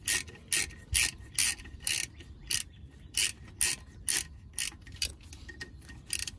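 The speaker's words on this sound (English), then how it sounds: "There's a 12-inch socket. No, half inch." A hand ratchet turns a half-inch socket while working on a Peterbilt truck, giving bursts of rapid clicking in a steady back-and-forth rhythm, close and clear with no talking.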